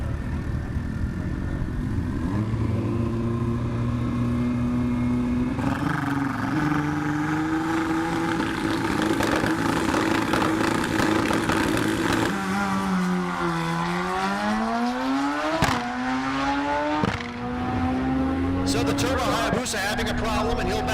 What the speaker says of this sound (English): turbocharged Hayabusa.